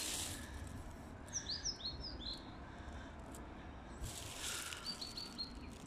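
Small bird chirping outdoors on a winter walk, a few quick high tweets in short bursts over steady background noise, fairly faint and distant.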